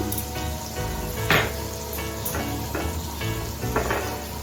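Chopped tomato hits hot frying masala in a pan, giving a moderate, continuous sizzle with a few brief sharp bursts and faint clatter, no talking.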